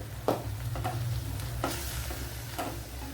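Bitter gourd frying with mild chili powder and turmeric in a pan: a continuous close sizzle and a low hum beneath it, broken by a few sharp scraping strokes of a spoon, with nobody talking.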